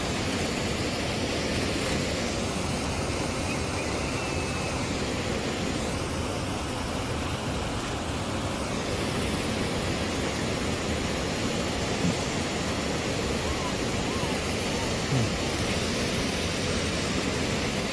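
A waterfall at a bear-viewing spot gives off a constant, even rush of white water, a dense broadband roar that fills the scene without pause and carries no voices.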